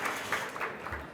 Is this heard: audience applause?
yes